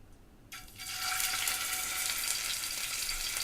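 Sea scallops hit a hot pan and start searing, a sudden loud sizzle bursting in after half a second and holding steady as a bright, hissing crackle.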